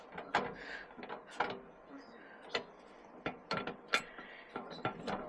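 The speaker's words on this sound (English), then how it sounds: "And we're going to release the pressure off the tool." A strut spring compressor tool being unloaded on a car strut: a run of sharp metallic clicks and ratcheting ticks, close and irregular, with quiet gaps between bursts.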